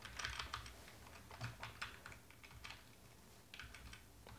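Keys clatter on a computer keyboard as JavaScript code is typed, a quick run of clicks and taps in short irregular bursts with brief pauses, close and fairly quiet, with no voices.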